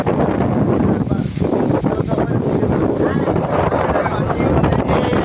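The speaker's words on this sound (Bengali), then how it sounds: "আর কত পরিমাণ বাতাস চলে" Strong wind with rain roars across an open wetland and buffets the microphone continuously, a dense rushing noise that stays loud throughout.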